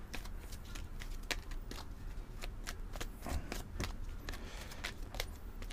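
A deck of tarot cards is shuffled and cut by hand, giving close, rapid riffling and slapping with quick repeated flicks, with no voices.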